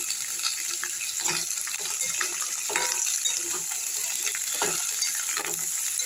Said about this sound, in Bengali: বেশি ভাজতে রাখবে না সবজি হালকা একটু ভেজে নিলেই হবে